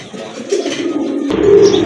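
Pigeons at a Bengali pigeon market, including a fancy pair for sale, cooing close and clear in low, rolling calls that build louder toward the end.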